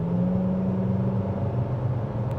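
A 2025 Nissan Kicks SR accelerates at half throttle in Eco mode, giving a steady low engine hum and road rumble from inside the cabin, with no voices.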